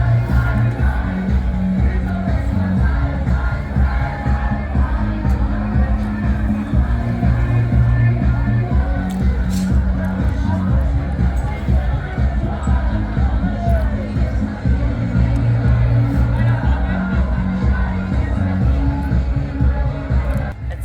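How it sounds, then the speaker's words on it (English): Young backpackers partying, loud steady crowd noise with thumping bass-heavy dance music and indistinct chatter throughout. "It's a young backpackers crowd."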